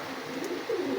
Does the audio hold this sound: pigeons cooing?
yes